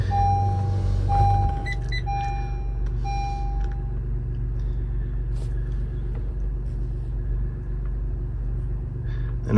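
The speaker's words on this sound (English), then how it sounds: "So we're gonna start the car up." A 2016-2022 Honda Pilot starts up during a 50k mile service, with a few chimes and beeps from the dashboard at first, then a low, steady engine idle rumbling close by.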